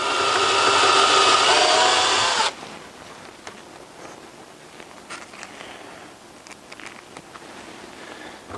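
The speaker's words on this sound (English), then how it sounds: "So we're going to go ahead and pre-drill our hole." A power drill pre-drilling a hole during a dishwasher installation whines loudly for a couple of seconds, then stops, leaving faint scattered clicks and handling noises.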